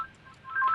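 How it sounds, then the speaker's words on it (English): A telephone rings briefly in a room, giving a short, clear electronic tone that starts faintly and grows louder toward the end. "I apologize for the phone ringing."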